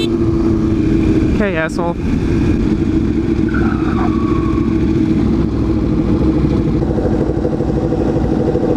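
A Ducati motorcycle at a powersports bike night runs with a loud, steady engine rumble close by, and someone speaks briefly over it.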